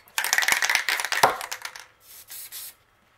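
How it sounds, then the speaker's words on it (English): An aerosol spray paint can sprays fishing lures in a long hissing burst with some clicks and rattles, then a second shorter, softer spray before it stops. "I'm probably going to spray both of these"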